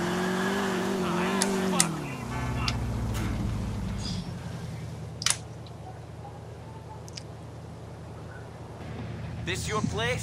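Car tires squeal and skid in GTA 4 on a slick road, a rising whine over a steady engine drone early on, then continuous road rumble with a few sharp knocks; a voice talks over it.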